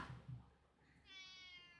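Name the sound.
cat Linus meowing in video game Wayfinder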